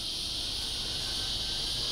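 Cicadas buzz outdoors in a continuous, high, even drone, moderately loud and unbroken, with faint low background rumble beneath.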